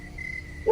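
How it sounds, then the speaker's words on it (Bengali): Crickets call at night beside a village path running between rice fields, a faint, steady high trill heard alone for under a second, with a brief louder sound at the very end. "হঠাৎ কোথাও ঝিঝি পোকার ডাক,"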